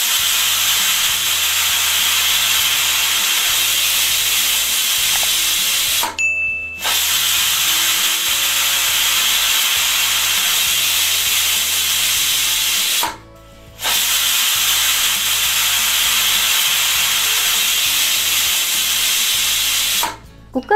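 A pressure cooker of vegetable soup on a stove lets out a loud, steady jet of steam hiss that runs almost unbroken, dropping out briefly three times.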